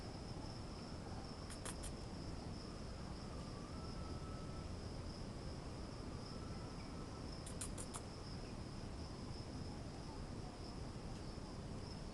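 Crickets chirp outdoors in a steady, continuous high chirr that never pauses. A couple of brief, sharp ticking bursts cut in over the faint, even background.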